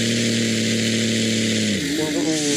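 A vehicle engine drones steadily while driving, close and loud, its pitch dipping and wavering briefly near the end.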